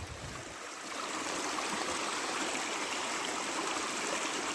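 Small forest creek flowing, a continuous rushing babble of water that swells louder after the first second and then holds steady, close by and alone.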